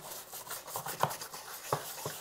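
A stiff paving-stone brush scrubs dry the plastic body of a Gardena 500 robot lawn mower, giving quiet, close, irregular rasping strokes with a few sharper scuffs, without speech.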